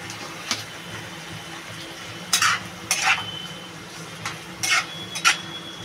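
Pabda fish laid into a hot pan beside an okra and prawn curry, frying with a low steady crackle and a few short sharp sizzling bursts and clatters, close and alone without talk.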